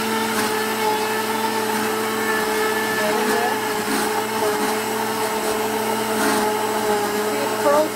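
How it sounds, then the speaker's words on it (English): Countertop blender churning frozen green juice with yogurt, a steady continuous motor whir with a whining tone that holds for several seconds, close and fairly loud. "And now we're gonna start our blending"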